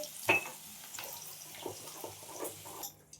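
Okra fries in a generous amount of oil with a light, crackling sizzle, punctuated by soft scrapes and clinks as pieces are lifted onto a plate.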